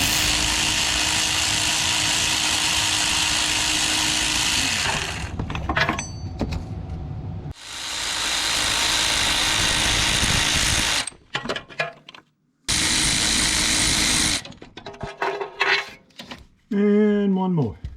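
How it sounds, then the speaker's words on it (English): Power ratchet spinning spark plugs out of a Vortec V8, a loud sustained whirring motor run, a pause, then another long burst and a shorter one, followed by clicking and handling sounds. "Let's go ahead and get our faster ratchet"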